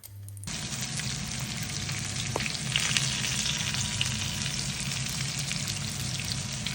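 Pike fish steaks fry in oil in a pan, giving a steady, fairly quiet sizzle that crackles evenly throughout with no talking.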